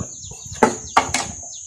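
Baby chicks chirp in a rural yard, three short, sharp peeps close to the microphone, spaced unevenly over a steady high-pitched whine in the background.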